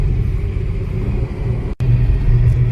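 A Maruti Celerio driving in fourth gear at about 70 km/h on hill roads gives a steady low engine and road rumble, loud and constant, with one sharp momentary dropout near the end.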